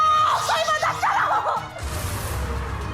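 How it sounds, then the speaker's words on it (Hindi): A woman in a Hindi crime drama screams in shrill, rising cries for about a second and a half, then quieter room tone follows. "चिल्ला क्यों रही हो चाची?"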